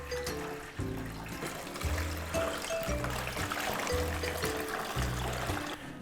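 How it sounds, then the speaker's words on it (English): Water pours and trickles into a foot-powered Yirego laundry machine, a steady splashing stream over several seconds with rhythmic low thumps underneath, close and continuous. "fill this thing all the way up and pour it into this machine twice"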